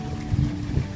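Gusty wind outdoors near coconut trees before a possible storm, a steady low roaring rush buffeting the microphone with slight surges, close and continuous, with no voices.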